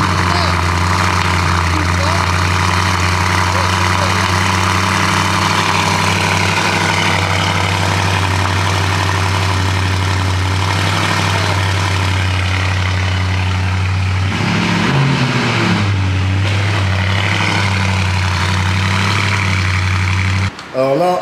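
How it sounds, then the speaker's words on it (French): A Bentley engine idles with a deep, steady low rumble that holds unbroken for about twenty seconds, with a voice talking over it. "écoute-moi le start-up, frérot, de cette Bentley"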